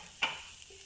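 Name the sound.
sautéing coconut, cashews, almonds, green chilli, ginger, garlic in a pan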